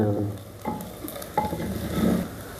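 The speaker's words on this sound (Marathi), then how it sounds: "ते मसाले व्यवस्थित परतून घेऊ" Spices stir-fried in oil inside a clay pot for chicken, with a soft sizzle under repeated scraping and shuffling strokes of a spoon, close and without talk.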